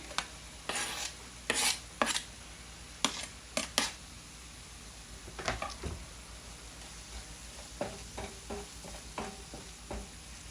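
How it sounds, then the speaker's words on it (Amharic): Finely chopped chili pepper stirred and fried in a pan over low heat with spices, a faint background sizzle broken by a string of sharp spoon scrapes and taps, close and without talk. "ትንሽ አብረን ጠበስ እናደርጋቸዋለን።"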